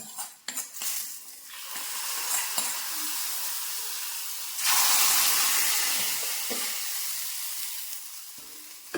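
Asafoetida tempering poured into a raw mango curry, opening with utensil clinks and a low fry, then a loud sudden sizzling hiss surging midway and slowly fading, with a few metal taps, no speech.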